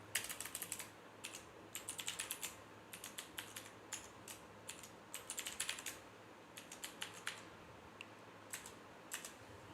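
Someone types a password on a computer keyboard in quick clusters of soft, close key clicks separated by short pauses, with no voices.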